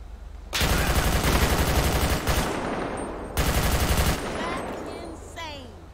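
Rapid automatic gunfire in the LSPDFR police game, loud and sustained in two long bursts with a short pause between them, ending with a trailing whoosh and fading echoes.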